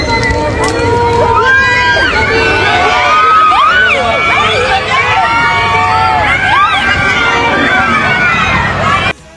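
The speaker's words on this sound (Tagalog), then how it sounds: "At pagbaba pa lang niya ng sasakyan sigawan ng mga tao." A crowd shouts and cheers loudly and continuously as an actress steps out of a car at a Walk of Fame event, with excited voices and shrieks rising over a dense babble for the whole stretch.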